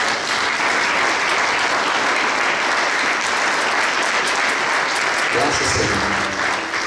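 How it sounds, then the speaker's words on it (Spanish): A wedding congregation inside a church in Sololá, Guatemala, breaks into loud, continuous applause that holds steady throughout, with a voice starting to speak over it near the end. "Demos aplauso a Dios."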